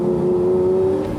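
A sports car engine holds a loud, steady rev with a sustained tone through a gear change, filling the whole short moment with no voices.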